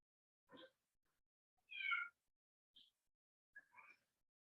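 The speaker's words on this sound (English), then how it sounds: "Sounds like my little kitty's got her ball right outside the door." A pet cat meows outside a door during a quiet indoor yoga session: four separate short meows, spaced about a second apart, fairly faint and alone.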